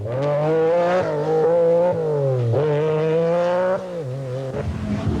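A 1992 MG rally car, driven by John Price, blasts through a rally stage on the Isle of Mull, its engine revving loud and close with a strong rising and falling tone that continues for several seconds with no talk.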